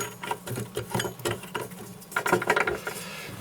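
A bolt is tightened by hand onto the blade of a GTM DC350 wall chaser, giving a run of close, rapid metallic ratcheting clicks and small rattles that pick up slightly toward the end, with no voices.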